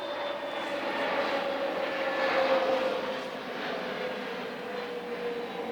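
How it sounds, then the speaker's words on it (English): An airplane passes overhead above a garden allotment, its engine roar swelling to a peak in the middle and then slowly fading, heard alone without talk. "Perfect timing for a plane to come over."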